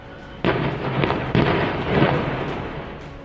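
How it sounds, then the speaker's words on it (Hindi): A rapid series of loud, sharp gas cylinder explosions, one after another, with rumbling between bursts, in Loni, Ghaziabad. "फिर एक के बाद एक कई धमाके होने लगे"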